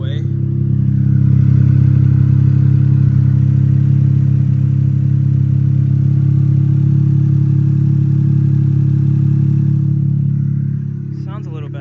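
A Honda Beat car engine runs with a slight misfire, holding a loud, steady low idle drone close by for about ten seconds before easing off, with faint unevenness in its rumble.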